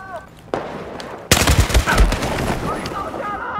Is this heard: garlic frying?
no